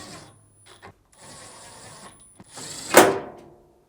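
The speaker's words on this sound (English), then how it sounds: "tilt the control panel back in place and reinstall the 4 screws" A Samsung dryer control panel being tilted back into place and refastened with four screws: faint plastic clicks and small mechanical rattles, then a louder scraping, whirring burst near the end before quiet.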